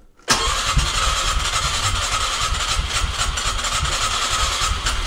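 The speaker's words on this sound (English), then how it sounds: "that starter not engaging right away, that's somewhat typical of these older Polaris" Older Polaris ATV jetted for high altitude cranks on its starter and catches almost at once, then settles into a loud, steady close-up engine rumble with a hissy edge.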